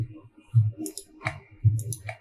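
Computer mouse clicking, a few light close clicks spaced irregularly over a couple of seconds, without talk.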